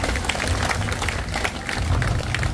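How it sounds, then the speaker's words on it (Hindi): Crowd applause at a village political rally, dense continuous clapping from many people, loud and sustained throughout, with faint crowd murmur underneath. "एक बार ताली बजा दीजिए।"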